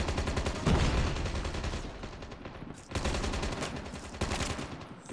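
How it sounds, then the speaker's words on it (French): Rapid gunfire in the mobile shooter Call of Duty Mobile, dense bursts of automatic shots that stop briefly and then resume, loud and close. "je tire dans le vide là, bordel"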